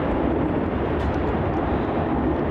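A Rex airliner roars steadily on its takeoff run at Melbourne Airport, a loud, broad, unbroken jet rumble close by with no voices.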